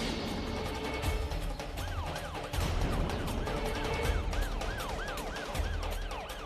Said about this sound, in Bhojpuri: पुलिस की गाड़ी